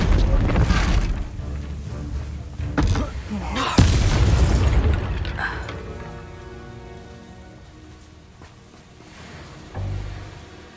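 Booming magical blasts in the video game Hogwarts Legacy as a Bombarda spell detonates during a fight, a couple of heavy explosions with crackling debris that fade into a long rumbling tail.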